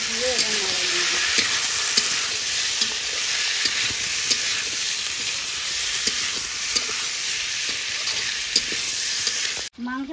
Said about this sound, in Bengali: মাংস কষানো হয়ে গেছে